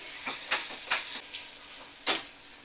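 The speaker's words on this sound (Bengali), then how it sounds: "পেঁয়াজটা ভালো করে আমি ভাজা করে নিচ্ছি" Sliced onions fry in a pan over a medium flame, giving faint, scattered sizzling crackles and soft spits at irregular intervals, with one sharper pop near the end and no talking.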